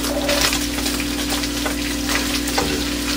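Onions tipped into a pan of nearly done bacon sizzle and hiss steadily and fairly loudly, with a few light clatters and no talking.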